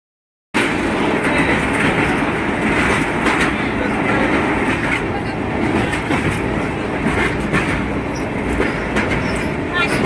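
A suburban local train stopping at Dombivli and Kalyan fills the scene with a loud, steady rolling rumble and rattle throughout, while faint voices sit underneath.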